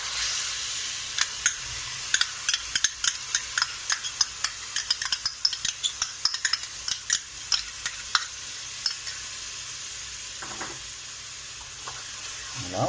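Chopped shallots and tomato paste sizzle softly in a pot while a spoon stirs and scrapes the bottom in a quick run of sharp clicks, which then slows to a few strokes over a steady frying hiss.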